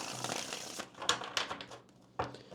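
A deck of tarot cards being shuffled: a soft run of riffling and rustling, then a few sharp snaps and taps as the cards are squared, close and quiet.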